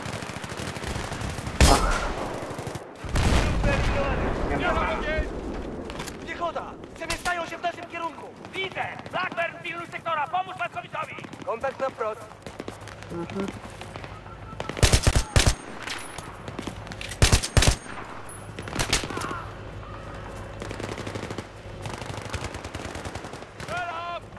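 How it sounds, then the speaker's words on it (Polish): Bursts of Battlefield 3 gunfire crackle over loud, busy game audio, with a few heavier shots standing out; a voice talks throughout. "Jeszcze jeden strzał, jeszcze jeden strzał."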